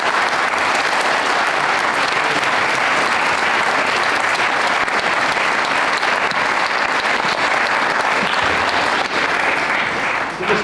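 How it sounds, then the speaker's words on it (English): Sustained, enthusiastic applause from a large school audience for a panel, loud and continuous throughout with no break. "can we give a round of applause to our panellists for today?"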